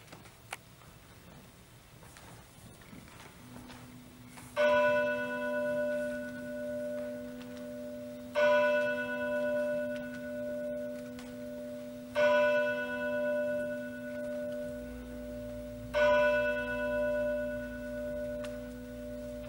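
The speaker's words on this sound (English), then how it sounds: "as the last bell ceased to chime" A church bell tolls four slow, resonant strikes a few seconds apart, each ringing on and fading under a low, steady background hum, heard during a community stage production of A Christmas Carol.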